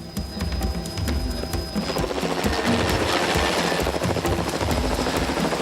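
Helicopter flying over African bush during an elephant capture, its rotor chopping steadily and loudly with a dense mechanical drone throughout.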